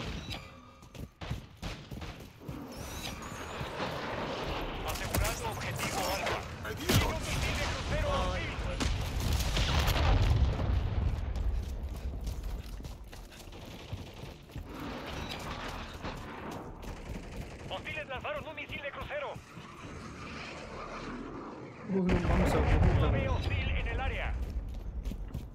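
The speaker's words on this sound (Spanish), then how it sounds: "Viene un bombardeo hostil." Shooter video game battle with a hostile bombardment: dense bursts of gunfire, rapid automatic shots and heavy explosive booms, loud and layered, with voices talking throughout.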